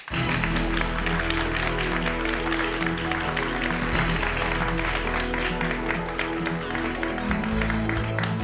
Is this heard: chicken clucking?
no